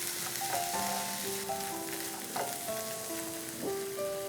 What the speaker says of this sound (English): We'll mix it well and we'll cook on a medium flame for 1 to 2 minutes.